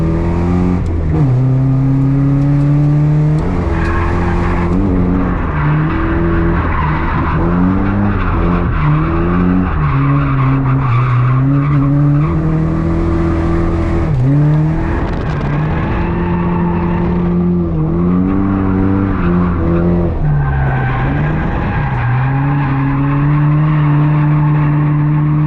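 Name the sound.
car drifting with tires skidding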